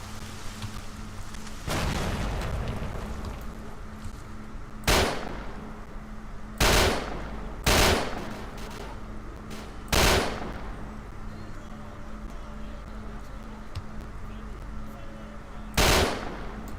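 Rifle fire in STALKER: Shadow of Chernobyl rings out as about six loud, separate cracks spaced a second or more apart, with a sustained burst near the start, all over a low steady background hum.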